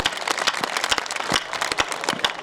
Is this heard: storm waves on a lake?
no